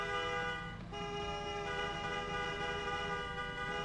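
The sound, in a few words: car horn honking in the video game RoadCraft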